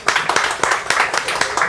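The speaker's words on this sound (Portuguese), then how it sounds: "Vamos fazer uma salva de palmas para Teotônio Roque." A small studio audience gives brief applause for a guest on a Brazilian bar-style talk show, a quick patter of hand claps at moderate level over a murmur of voices.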